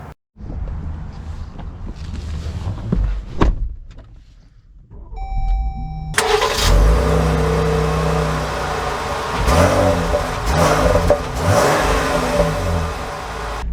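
A 2024 Jeep Grand Cherokee L Limited starts off, with a quiet cabin and a few clicks and a chime, then the engine hum rising and surging through several accelerations, heard from inside.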